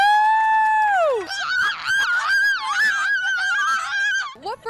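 A person imitates a cuckoo bird with a loud, close, drawn-out vocal call that slides downward, then breaks into warbling, honking voiced sounds.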